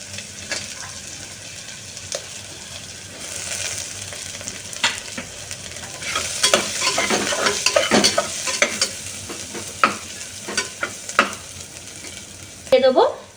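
Eggplant, beans and carrots fry and get stirred in a hot pan, with continuous sizzling and repeated scraping spoon strokes, busiest in the middle and ending in a sharp clatter.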